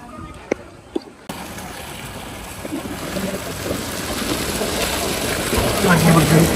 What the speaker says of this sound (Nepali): यसरी कोकाको पानी निरन्तर आइरहेको छ